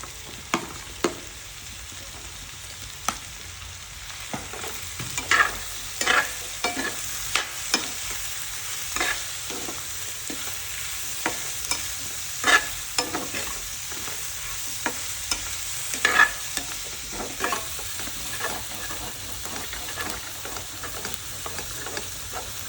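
Mushrooms sizzle and fry in a hot pan for a chicken dish, with frequent scraping stirs and clinks of a utensil punctuating a steady crackling hiss, close and alone without talk.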